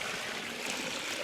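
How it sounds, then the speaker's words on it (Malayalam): Grape juice is poured straight into an ice-lolly mould, a short steady trickling wash of liquid running without pause. "നമ്മുടെ മുന്തിരി ജ്യൂസ് നമ്മൾ നേരെ ഇതിലേക്ക് ഒഴിക്കുകയാണ്"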